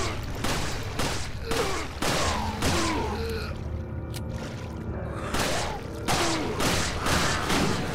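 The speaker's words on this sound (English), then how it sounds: "So if I shoot this guy in front, I'm gonna hit the guy behind him also." Rapid volleys of Punisher pistol gunshots in Resident Evil 4, several sharp cracks in quick bursts, then a brief lull, then more firing over a busy game soundscape.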